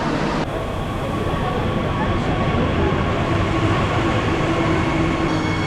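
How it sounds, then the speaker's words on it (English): A train on the line to Tel Aviv in Israel gives a loud, steady rumble that fills the whole stretch, with faint wheel hum, and a person talks over it. "this is the train to Tel Aviv over here"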